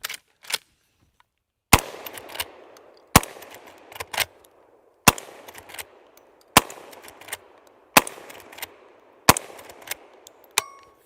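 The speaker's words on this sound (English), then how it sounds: "Let's put some shots on steel." A Henry X lever action shotgun loaded with 2.5-inch 7-shot fires repeatedly at steel targets outdoors, giving about ten sharp loud reports at a steady pace, each followed by a fading ring or clang, with short gaps for cycling the lever.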